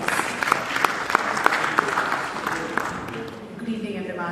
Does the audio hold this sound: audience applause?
yes